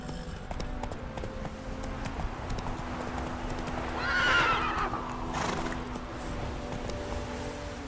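A horse in the video game The Witcher 3 trots with steady clip-clopping hooves, then lets out a clear neigh midway, moderately loud against a low background hum.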